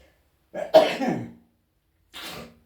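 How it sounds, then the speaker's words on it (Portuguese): One person sneezes sharply and close from an allergy, with a gasping intake first, then a second, softer burst of breath a moment later. "me desculpa, mas eu vou espirrar"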